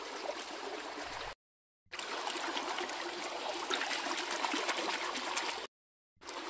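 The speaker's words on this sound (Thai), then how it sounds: "ออกเร็วด้วยเพราะมันเป็นน้ำไหลแรง" Fast-flowing stream water under a bridge while wild coriander is rinsed in it, a steady close broadband rush and trickle broken by two short silent gaps, with no talking.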